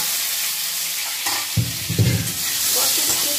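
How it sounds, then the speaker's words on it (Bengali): Boiled ghot kochu (taro) going into hot oil, a continuous strong sizzle with a short burst of low bubbling and spattering as the pieces hit the pan, heard close with no voices. "এবারে ওই তেলের ভিতরে দিয়ে দিচ্ছি কচু, ঘট কচু, সিদ্ধ করা ঘট কচু"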